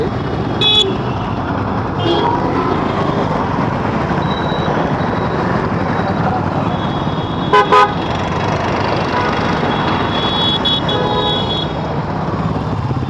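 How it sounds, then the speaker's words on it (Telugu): Dense road traffic on a city street in Hyderabad, heard from inside an auto rickshaw, forms a steady rumble punctuated by several short car horn toots and a pair of sharper honks midway. "ట్రాఫిక్ చూడండి ట్రాఫిక్ ఎక్కువ"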